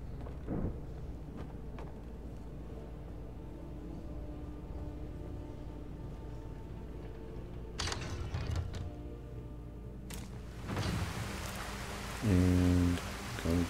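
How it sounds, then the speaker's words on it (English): Heavy rain pours down steadily as a broad, continuous wash of drops, with brief louder gusts and a low rumble near the end. "And going back in a downpour."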